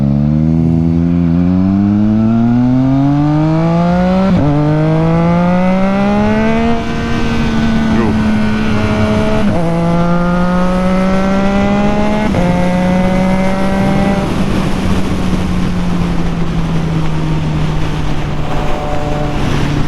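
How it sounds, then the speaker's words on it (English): A 2022 Triumph Trident 660 motorcycle engine climbs in pitch through several gear changes on a cold day, then winds down under engine braking with light exhaust crackles, loud and close over wind rumble. "the pops that it makes when you're engine braking just sound really good"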